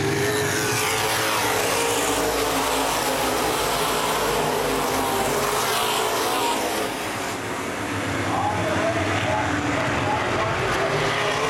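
Open wheel modified race cars battling at Baer Field Speedway, a dense continuous roar of many engines at close range filling the whole clip, with loud track ambience and a race announcer talking over it.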